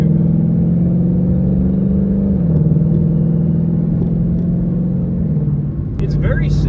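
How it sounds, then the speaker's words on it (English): A 2014 Ford Mustang GT V8 accelerating in sport shift mode, with a steady, loud engine drone heard from inside the cabin that steps down in pitch at gear changes, and a brief noise near the end. "when you're accelerating, you do not have to lift off of the gas."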